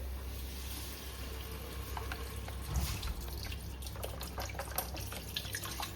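Beef broth bubbles and simmers in a pan with soft, irregular sizzling and scattered small clicks and pops, fairly faint and close, with a low steady hum underneath and no talking.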